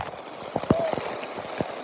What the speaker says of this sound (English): we're in a torrential downpour.